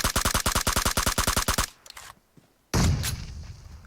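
Rapid automatic gunfire in PUBG Mobile, a fast burst of about fifteen evenly spaced loud shots lasting around a second and a half, then a short near-silence before another loud blast of noise that slowly fades.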